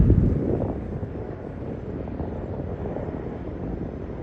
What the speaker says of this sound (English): we saw the plane take off right into the cloud right there